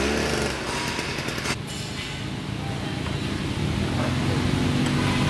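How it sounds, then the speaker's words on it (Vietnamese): An Iseki GA60 6HP diesel tiller engine starts and runs with a loud, steady rattling chug that fills the whole clip, with a few voices talking over it. "chúng tôi sẽ khởi động thử các bạn nghe tiếng của cái động cơ 6 này nghe như nào"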